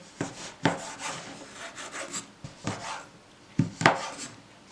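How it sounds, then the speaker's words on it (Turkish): White chocolate being cut into small pieces for cookies, with a few sharp knife strikes and scraping rubs against a wooden board, close and fairly quiet, with no talking. "Beyaz çikolatayı da küçük parçalara ayırıyorum."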